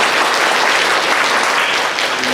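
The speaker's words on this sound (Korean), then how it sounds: "박수 환영하십시다" A church congregation bursts into continuous, dense applause to welcome a flute player, a loud unbroken wash of many hands clapping with no pauses.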